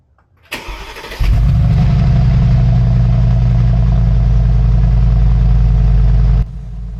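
A Mercedes-Benz G63 AMG engine cranks and catches after a push-button start, then settles into a loud, steady cold-start idle before the revs drop slightly near the end.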